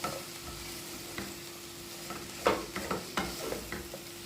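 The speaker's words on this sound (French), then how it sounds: "une fois que tout est incorporé, on mélange bien le tout" A vegetable mixture with butter being stirred in a pan: a quiet low sizzle with a faint steady hum, punctuated by a few scraping spoon strokes that cluster toward the end, close and alone.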